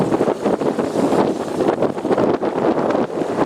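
Strong wind at sea near a fishing spot among dunes buffets the microphone with a loud, continuous roar, gusting unevenly throughout with no talk.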